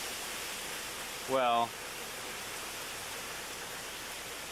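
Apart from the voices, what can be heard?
hurricane wind whipping the trees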